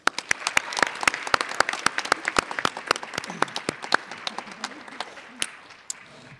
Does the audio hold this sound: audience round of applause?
yes